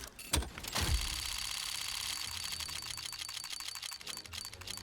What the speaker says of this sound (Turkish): Onayla dedik ve artık kasamızı açıyoruz.